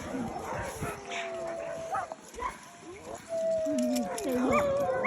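Small Iditarod sled dog yips and whimpers in high, wavering whines, with a person talking softly nearby.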